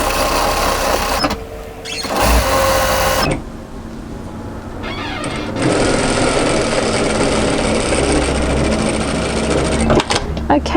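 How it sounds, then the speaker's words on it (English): A sewing machine runs a second line of stitching on a Beachcomber tee shirt or dress, loud and close, starting and stopping in bursts of mechanical whirring with brief quiet gaps between runs. "I'm going to sew a second line of stitching now."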